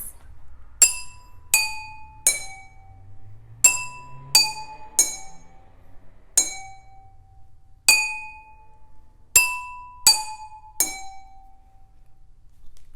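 Musical glasses pre-filled with water play the tune Hot Cross Buns: a dozen clear, ringing glass tones struck one by one in a steady melodic rhythm, each note sustaining and fading before the next, heard close and alone.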